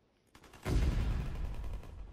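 Gunfire in a World War II prop hunt video game as a player shoots at decoys, a quiet click followed by a loud, sustained burst of rolling shots that stays heavy to the end.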